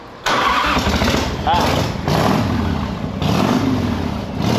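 A petrol engine running on very low-octane fuel starts abruptly and keeps running with a rough, loud, chugging, tractor-like idle that wavers in pitch, with voices now and then.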